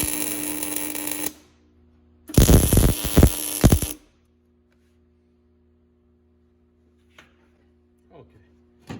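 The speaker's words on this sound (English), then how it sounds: "now that we put the tack here and here" Tack welding on a 1994 Jeep YJ frame during a front driver-side repair: two loud bursts of harsh arc crackle, each lasting one or two seconds, separated by a low electrical hum and quiet gaps.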